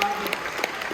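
A magic show audience aboard a cruise ship claps, a brief stretch of scattered applause with a few sharper hand claps standing out.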